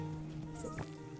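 A grumpy cat meows briefly in the video game Chicory: A Colorful Tale, one short cry over steady, soft game music and ambience.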